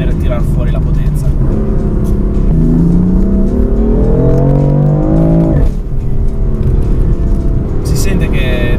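A BMW M4 engine revs up steadily, its pitch climbing for several seconds before dropping off, then idling loud and close.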